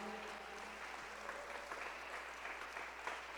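A church congregation claps steadily, a dense patter of hands that holds at an even, moderate level throughout.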